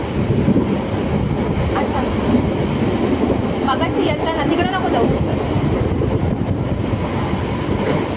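A passenger train in motion, heard from inside the carriage: a loud, continuous rumble with rhythmic wheel clatter, while people talk over it near the middle.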